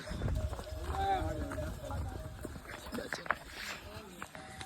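Horses walking with hooves clip-clopping, a steady low clatter that stays partly buried under people talking throughout.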